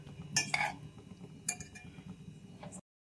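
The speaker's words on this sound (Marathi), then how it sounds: "आता भांडी ठेवणार आहे मागं" Dishes and utensils being put away in a home kitchen after a meal, with a few sharp clinks and clatters in short bursts, near and fairly loud, over a quiet background.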